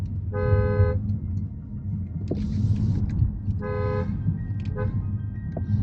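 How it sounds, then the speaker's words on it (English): A Mercedes-Maybach S 580 horn sounds in two short honks about three seconds apart, loud and close over a low rumbling background. "This is the horn of the car and it sounds amazing"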